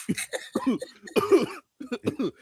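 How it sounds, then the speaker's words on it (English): Several short, harsh coughs in a quick cluster, then a brief pause and two more coughs, close and fairly loud with no talking. "I had to cough a little bit."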